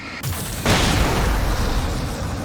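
A loud explosion booms in Alan Wake Remastered, a heavy blast that swells and then rumbles on steadily to the end, with no talk over it.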